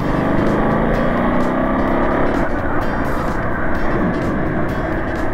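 A Ducati Monster 937 motorcycle ridden in urban mode, its engine droning loud and continuous at close range with steady low rumble and broadband wind-like roar, no talk over it.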